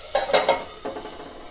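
Green chillies fry in a pan as a spoon stirs them, giving a few short scraping, sizzling bursts close by, with no talking.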